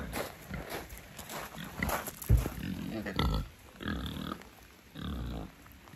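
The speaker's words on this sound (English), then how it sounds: "As we've arrived at our Airbnb here, we've been greeted by these pigs." Pigs at a farm in Scotland grunt and snuffle close by in a rough, irregular run of short bursts, with some rustling and movement but no clear talk.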